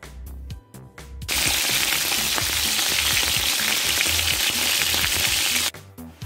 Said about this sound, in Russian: Пока готовится, жарятся крылышки